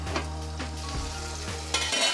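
Onions sizzle and fry in a hot pan for sambar, with a steady crackle under a few scraping stirs of a utensil, close and fairly loud.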